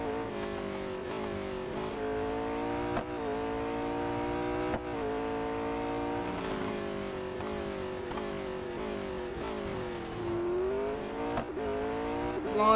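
A race car engine from the Real Racing 3 mobile game drones loudly and continuously, its pitch climbing and dropping through gear changes and revs, with no voices over it.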